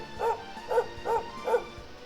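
A dog in Dragon Quest 11 on PlayStation 4 gives four evenly spaced, fairly quiet barks over a faint steady background.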